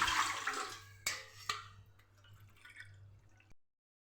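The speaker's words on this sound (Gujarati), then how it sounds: "ત્રણ વાટકા પાણી આપણે મૂકવાનું છે" Water is poured from a bowl into a steamer pot on a gas stove while wheat and rice papad dough is being prepared, a splashing pour with a few distinct splashes before it stops abruptly.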